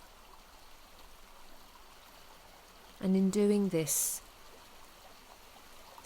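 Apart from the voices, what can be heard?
pouring water from a jug into a pool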